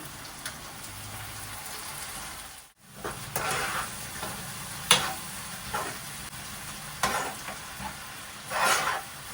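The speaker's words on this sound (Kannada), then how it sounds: "ಇದು ಸ್ವಲ್ಪ ಚೆನ್ನಾಗಿ ಎಣ್ಣೆಲಿ ಫ್ರೈ ಆಗಲಿ, ಎಣ್ಣೆ ಬಿಟ್ಕೊಳ್ಳೋವರೆಗೂ ಅದು ಫ್ರೈ ಆಗಿ" Coriander and green chilli puree fries in oil in a pan, a soft steady sizzle broken by occasional stirring scrapes and spatters, fairly quiet with no talking.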